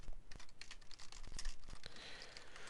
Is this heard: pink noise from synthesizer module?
no